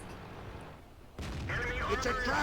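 A single heavy tank cannon shot in a top-tier tank battle video game, a sudden booming blast followed by a rumbling tail, heard fairly close behind steady background noise.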